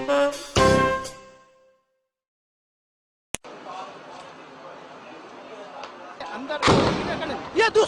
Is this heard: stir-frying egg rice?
no